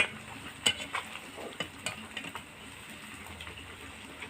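Onions browning in a pan for a meat dish, stirred with a utensil: soft steady sizzle with scattered scraping and clinking strokes, fairly quiet and close, no voices.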